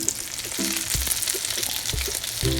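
Eggplant omelette frying in oil in a pan gives a steady, loud sizzle and crackle, with a few soft low knocks of cookware under the constant hiss.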